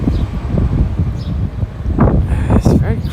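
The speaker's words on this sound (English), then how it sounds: "It is so windy. I apologize for all the giant wind sounds." Strong gusty wind buffets a handheld microphone on a walk through Williamsburg, Brooklyn, a loud continuous low rumble throughout with faint street sounds underneath.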